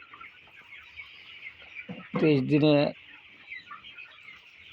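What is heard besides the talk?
broiler chickens clucking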